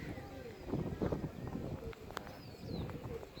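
Pigeons at a rooftop loft give soft, low, throaty coos in short repeated bursts, close by, with faint background rustling and noise.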